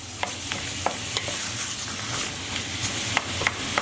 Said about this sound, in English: we're going to add our onions in, as well as our diced beef. And we just want to cook those together on a medium heat until they're nice and brown